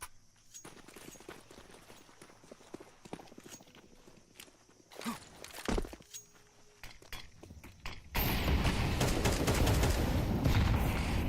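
Rifle and pistol gunfire in a competitive Counter-Strike match, with sharp scattered shots and footsteps, then a sudden loud, dense wash of noise toward the end.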